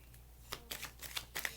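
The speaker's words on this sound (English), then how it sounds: "I cannot shuffle today." Tarot cards shuffled in quick riffling bursts, several short papery flutters and snaps close by, with no talking.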